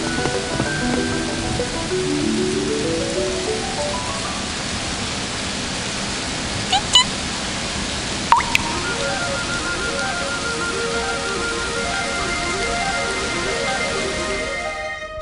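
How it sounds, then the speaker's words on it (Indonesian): Steady rain falls throughout as an even, dense hiss, with light background music playing softly underneath and a couple of faint clicks midway. "Oh, hujan turun."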